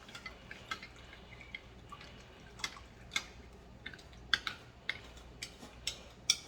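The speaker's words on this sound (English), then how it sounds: "We're gonna stir this till it's all dissolved," A spoon stirs sugar and yeast in a measuring cup for pizza dough, giving light, irregular clinks and taps of metal on the cup, close and faint, with no talking.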